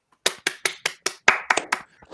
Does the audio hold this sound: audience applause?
yes